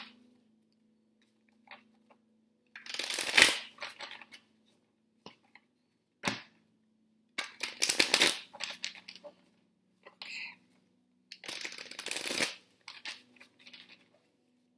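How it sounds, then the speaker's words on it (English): Cards riffle and snap in several brief bursts separated by quiet pauses, with faint clicks and shuffling in between, close by. "Let me shuffle this deck."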